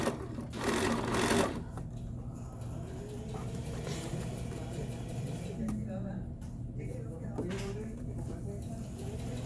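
A sewing machine stitching a fabric cuff hums faintly and steadily throughout, while a person talks over it at close range.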